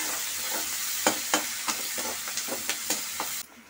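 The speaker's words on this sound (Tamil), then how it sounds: "இது நல்லா வதங்கட்டும்." Onions, curry leaves and green chilies sizzle steadily in a hot pan, punctuated by several sharp scrapes and clacks of a utensil stirring, then the sizzle cuts off.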